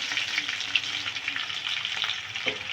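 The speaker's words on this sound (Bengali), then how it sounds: "এই কড়াইয়ে দেখো কত সুন্দর করে ভাজিচ্ছি" Paratha fries in a wok with a steady, close sizzle and crackle, with a few sharper pops and spatters throughout and no talking.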